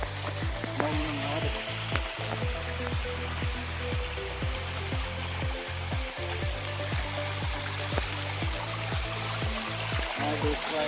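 Water trickles and splashes steadily into a small stone pool in the hills, a continuous close babble with a regular low rhythmic thumping running underneath.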